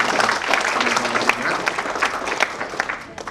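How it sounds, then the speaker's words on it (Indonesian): Sustained applause from an audience at an insurance company client gathering in Indonesia fills the room with dense, loud clapping that fades slightly toward the end. "mari kita kasih aplaus dulu kepada 3 pembicara kali ini"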